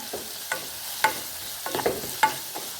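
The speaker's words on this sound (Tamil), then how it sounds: "நல்லா தாளித்து கொள்ளுவோம் நல்லா பொன் நிறத்துக்கு வரட்டும்" Spices temper in hot oil in a pan for a sardine fish fry, a light sizzle punctuated by rhythmic spatula scrapes and taps against the pan at close range.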